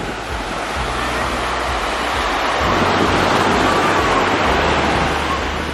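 Ocean waves and surf at Waikiki beach on Oahu, Hawaii, with a sandbar offshore: a steady, broad wash of breaking water that grows louder partway through, with wind rumble on the microphone and no talk.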